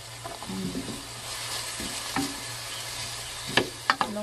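Onions frying over low heat in a pan give a steady, soft sizzle with faint stirring, followed by a few sharper utensil clicks near the end.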